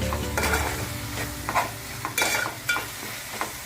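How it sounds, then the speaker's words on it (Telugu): Coriander powder is stirred into a sizzling spring onion and tomato curry in a pan, with a steady frying hiss broken by several scraping, clinking stirs. "నెక్స్ట్ కొద్దిగా ధనియా పొడి ఇలా వేసి బాగా కలిపేసి"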